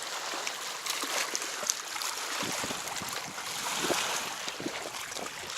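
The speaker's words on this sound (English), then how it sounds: "It's pretty windy out there today." Wind blowing at a lake during a hike: a steady, fairly faint rushing gust noise with a broad hiss, and no talking.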